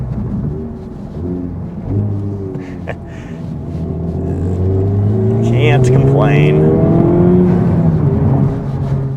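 A Honda Civic Type-R with a full exhaust revs up through the gears, its note climbing and dropping at each shift and growing louder. A voice speaks briefly over the engine.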